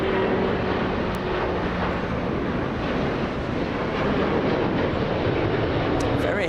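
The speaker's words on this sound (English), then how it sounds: "Very heavy departure there." A heavy, fully loaded airliner departing Los Angeles International Airport, its jet engines a loud, constant broadband roar with wind buffeting the microphone throughout.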